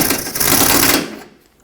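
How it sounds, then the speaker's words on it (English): A power tool snugs a top bolt on a front side bumper bracket of a 1995-2004 Toyota Tacoma: a single loud, close, rapid rattling burst for about a second, then stopping abruptly. "Snug this top bolt up."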